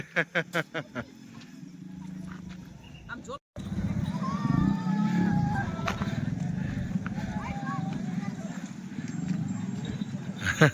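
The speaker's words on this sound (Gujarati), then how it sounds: "સાપુતારામાં ઘોડે સવારી કરી છે." Horse hooves clip-clop in a steady rhythm during a horse ride at Saputara, the opening beats sharp and clear, then a busier stretch where the hoofbeats continue under people talking and a brief whinny-like call.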